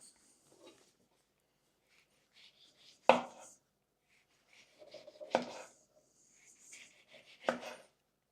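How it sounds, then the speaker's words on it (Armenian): Knife chopping an orange on a cutting board in a home kitchen, three sharp distinct chops spaced a couple of seconds apart, with faint rustling and handling sounds between them. "կտրատել ապելսին"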